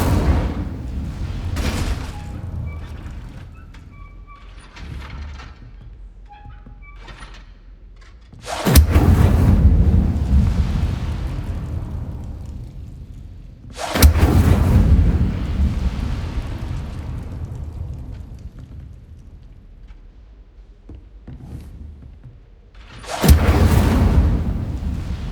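Incendio fire spell cast repeatedly in Hogwarts Legacy, each cast a loud sudden whoosh-boom burst that trails off, with four big bursts spaced several seconds apart over quieter rumbling game ambience.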